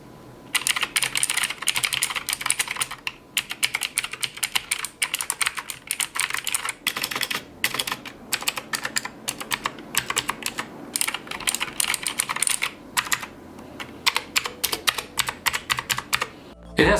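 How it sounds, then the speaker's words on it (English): Rapid typing on a Pictek budget mechanical keyboard with clicky blue switches, crisp sharp clicks in quick bursts with short pauses, close and fairly loud throughout. "So the blue switches are really loud and clicky"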